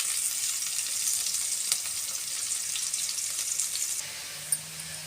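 Chopped onions sizzle steadily in a pan as a breakfast dish made from puffed rice gets underway, a dense hiss with a faint stir near the end.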